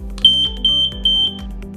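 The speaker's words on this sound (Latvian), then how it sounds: "šis dūmu detektors mūs brīdinās par notikušo situāciju" Household smoke detector alarm in an apartment sounding shrill, piercing beeps in a steady repeating pattern, three loud pulses close by with a low hum underneath.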